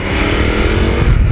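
A Ducati Multistrada 950 motorcycle engine revs hard in sports mode with aggressive throttle, a loud close rumbling roar that swells slightly over a short burst.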